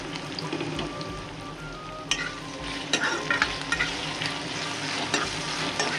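Mutton head meat sautéing with curry leaves in a hot pan gives a steady, close sizzle with crackling pops and the scrape of a spoon stirring at intervals, with no voices.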